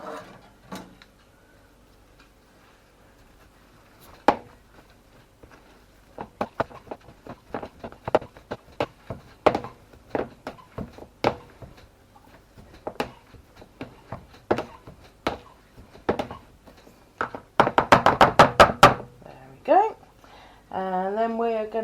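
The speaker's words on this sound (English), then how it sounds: "And then we're going to mash this up." Cooked potatoes mashed in a bowl with parsley: a long series of irregular soft thuds and scrapes, close by, with a quick flurry of rapid strokes near the end and no talking.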